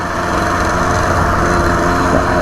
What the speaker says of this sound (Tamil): இப்போ தாங்க அந்த சூப்பர் பைக் சவுண்ட் வருதுங்க.